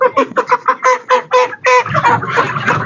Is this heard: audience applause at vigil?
no